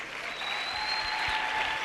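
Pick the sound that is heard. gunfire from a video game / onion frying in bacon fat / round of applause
round of applause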